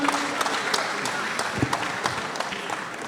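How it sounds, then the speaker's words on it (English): An audience claps in the KNUST Great Hall during a campus entrepreneurship event, a moderate, steady round of applause with a few sharper individual claps standing out. "a round of applause for him"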